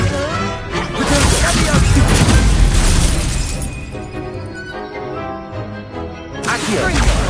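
Confringo blasting spell in a Harry Potter video game, a loud burst of shattering crashes and rumbling explosion that fades into a lingering hum before another blast swells at the end.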